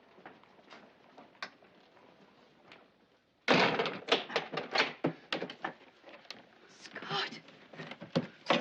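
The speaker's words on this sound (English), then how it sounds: "Close the door." A door closes in a 1976 Sherlock Holmes film scene with a sudden loud thunk after quiet background sound, followed by a run of knocks and clatter.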